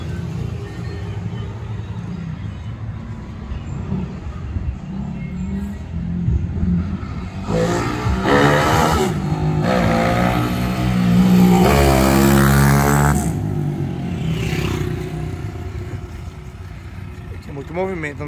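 A Honda CG 150 fuel-injected motorcycle engine bored to 222cc revs in short bursts on the street, rising and falling several times, with people talking over the mechanical drone.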